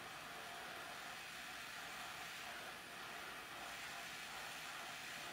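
A steady, breathy hiss of hot air blows from a heat gun warming a chunk of foam, faint and even for a few seconds with a slight dip midway, and no voices.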